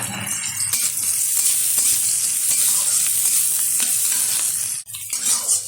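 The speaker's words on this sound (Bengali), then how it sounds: "এটা একটু লাল লাল করে ভেজে নেবো পেঁয়াজটা। দিয়ে দেবো কাঁচা পাকা লঙ্কা কুচিয়ে নিয়েছি।" Chopped onion and green chillies frying in hot oil, a steady loud sizzle with light stirring scrapes throughout, briefly dropping near the end before resuming.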